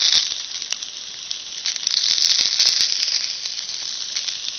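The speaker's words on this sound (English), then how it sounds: "You can probably hear them sizzling." Loud, steady sizzling hiss of Polish sausages frying on a Lodge griddle over a rocket stove, with scattered pops and crackles throughout.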